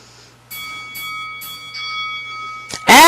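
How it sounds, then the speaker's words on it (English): A wrestling ring bell in the game Second Life chimes in several clear, evenly spaced strikes with a sustained ringing tone, followed by a sudden loud burst at the end. "And there's the bell."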